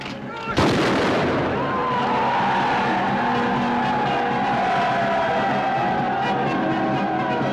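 A single sharp, loud musket volley from a line of soldiers bursts out just after the start, then gives way to a sustained, noisy rumble with shouting that continues to the end.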